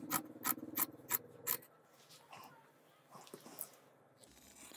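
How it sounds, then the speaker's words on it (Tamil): Shears snip through trouser fabric in four or five quick, crisp cuts close at hand. Quieter rustling of the cloth follows. "இப்போ இதை அப்படியே கட் பண்ணிடலாம்."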